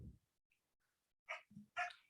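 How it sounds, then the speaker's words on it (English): A pet dog gives a couple of brief, faint yips and whimpers in a quiet room, separated by silence. "That's my dog."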